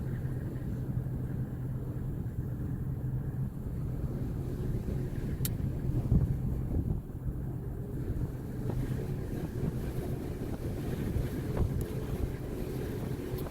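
Strong wind whips across an outdoor microphone, a continuous low buffeting rumble that stays fairly steady throughout with a slight surge midway, no voices over it.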